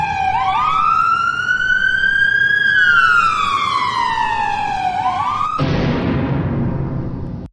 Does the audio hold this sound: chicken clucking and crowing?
no